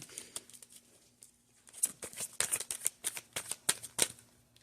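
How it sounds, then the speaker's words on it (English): Tarot cards shuffled in quick riffling bursts, close and quiet, with irregular crisp flicks and snaps and no talk. "we're going to start shuffling and get the signifier card of your spread"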